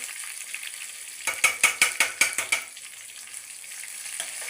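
Tempering for tomato dal sizzles and spits in a hot pan. A steady hiss swells into a quick run of about eight sharp crackling bursts, then settles back to a close, even sizzle.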